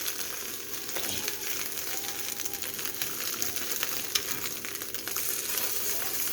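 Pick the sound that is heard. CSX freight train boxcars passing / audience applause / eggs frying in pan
eggs frying in pan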